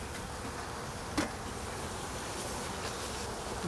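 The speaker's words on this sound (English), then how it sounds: "You hear the noise has come up slightly. The bees objecting." Dense, steady buzzing of many agitated honey bees disturbed by smoke at a hive fills the air, a constant droning swarm close by with a brief sharp knock partway through.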